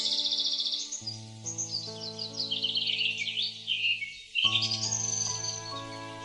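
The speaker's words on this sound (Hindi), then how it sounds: "तभी पास के एक बरगद के पेड़ पर एक जादुई टून टून चिड़िया बैठी थी।" Bright, busy chirps and trills from a bird perched in a banyan tree in a forest, layered continuously over sustained melodic background music.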